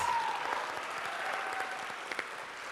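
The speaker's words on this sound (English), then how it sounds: "Let's have another round of applause for these 5 Panther representatives." Audience applause at a school awards ceremony honoring student representatives, a steady dense clapping that fills the room and holds at an even level for the whole stretch, with a few sharper claps standing out near the end.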